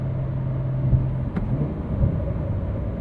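Engine of a 2025 Porsche 911 Carrera T, 992.2 generation with a six-speed manual, heard from the cabin while cruising in sixth gear on a morning commute: a steady, close low drone and rumble with slight swells, and no talk over it.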